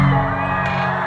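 Concert crowd at a hip-hop show in a House of Blues venue, loud and close, with a dense wash of cheering and whooping that swells briefly and carries steadily through the short moment.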